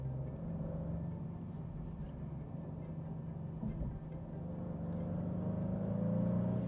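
A Maserati GranTurismo Trofeo's engine gives a faint, steady low rumble with a hum that climbs slightly in pitch and grows a little louder near the end.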